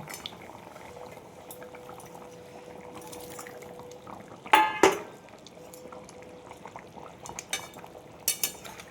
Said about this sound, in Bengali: ঝোলটা ফুটে গেছে, আমি এবার মাছগুলো সব দিয়ে দেব